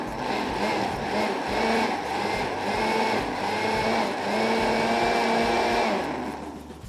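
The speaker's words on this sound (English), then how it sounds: "Then we'll add them to the blender for a little extra summer flavor." Countertop blender pulsing fresh figs and tomatoes into a salsa, a steady loud whirring grind that runs continuously for several seconds, briefly easing and surging with each pulse before trailing off at the end.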